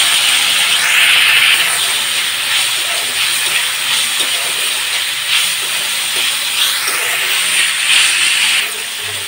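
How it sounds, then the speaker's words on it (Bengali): Potato pieces fry in hot mustard oil in a wok for stuffed aloor dum, making a loud, continuous hissing sizzle with faint swelling surges, close up and with no talk. "তেলটা গরম হয়ে গেছে, আলুগুলো দিয়ে দিচ্ছি এর মধ্যে।"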